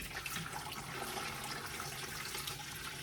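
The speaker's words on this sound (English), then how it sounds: "We are just going to add quite a bit of water to this." Water runs steadily from a tap into a jam canner, a continuous broad rushing splash that stays close and loud throughout with no talking.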